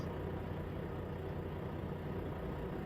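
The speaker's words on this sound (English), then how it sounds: "Let's go ahead and fire the truck up." A heavy truck engine in the American Truck Simulator video game idles steadily at close range, a low, rumbling drone that stays constant and loud with no pauses or voices.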